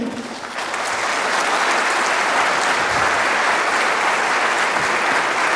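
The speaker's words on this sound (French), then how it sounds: "Je vous demande d'applaudir Thibaut Mercier" An audience applauds at a 2019 conference, dense sustained clapping that swells in within the first second and holds loud and even to the end.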